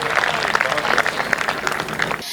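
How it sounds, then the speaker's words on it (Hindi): Loud, dense applause from a live audience at a comedy poetry show fills the room, with steady crackling claps that stop abruptly at the end. "तालियां बजा दीजिए एक बार जोरदार"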